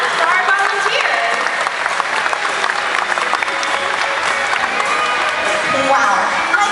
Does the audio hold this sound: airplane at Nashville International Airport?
no